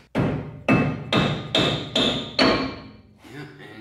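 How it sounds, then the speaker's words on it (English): Hammer tapping a stuck brake rotor loose on a Miata front brake, six sharp ringing metallic strikes at an even rhythm, close and loud, the last one softer. "So we should be able to give this rotor a couple taparooskies."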